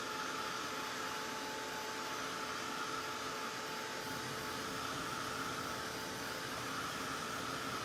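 An embossing heat tool blows hot air over stamping foam, making a constant, even whooshing roar that runs on without a break.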